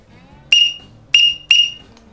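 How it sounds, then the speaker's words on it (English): Three sharp, high peeps from a Duck Commander 6-1 teal duck call whistle sound up close, one alone and then two in quick succession. "then this is a Duck Commander 6-1"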